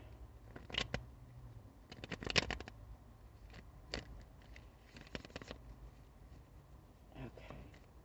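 Quiet bursts of tarot cards being shuffled, several short riffling flurries spaced apart, close and soft against a faint background.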